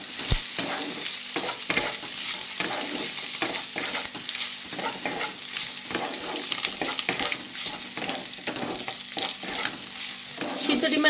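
Spatula scrapes a pan steadily while boiled egg mash with chopped coriander is stirred, a light sizzle beneath the busy, rhythmic scratching that runs throughout with no voices.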